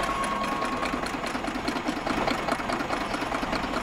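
A Stokes Tri-Pact 35-station tablet press runs steadily on three-phase power with its variable speed pulley drive, giving a continuous, even mechanical whir and rattle at close range with no talk.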